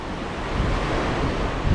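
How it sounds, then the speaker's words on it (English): Ocean waves crash steadily onto the beach at Prachuap Khiri Khan at sunrise, a loud, continuous wash of surf with a deep rumble and some wind buffeting the microphone, and no voices. "No train, just waves crashing south."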